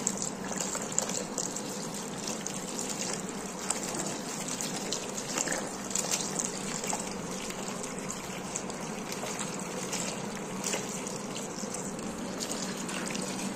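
Malabar spinach leaves are rinsed under a running tap, a steady close gush and splash of water lasting throughout with no talking.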